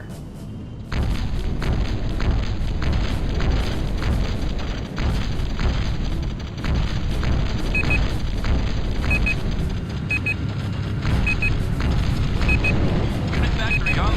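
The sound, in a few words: gun tower firing in the video game Battlezone '98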